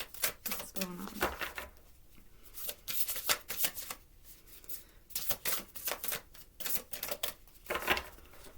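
Tarot cards shuffled repeatedly up close, crisp riffling bursts broken by short pauses, with faint background murmurs.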